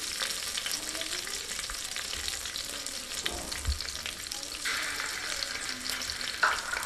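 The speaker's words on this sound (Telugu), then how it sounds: "ఇవి మంచిగా ఆయిల్లో కొంచెం మగ్గే వరకు ఇలా కలపాలి" Spices frying in oil for a chicken curry are stirred in a pan, giving a steady close sizzle with occasional soft scrapes of the spoon throughout.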